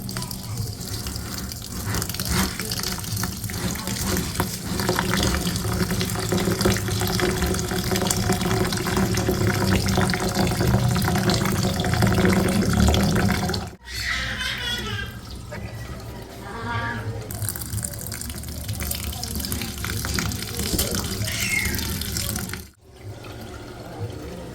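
Glutinous rice mixed with regular rice is washed under a running tap in a sink, a loud, steady gush of water with splashing and stirring that breaks off twice briefly.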